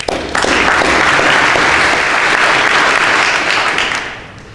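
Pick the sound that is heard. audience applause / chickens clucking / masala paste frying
audience applause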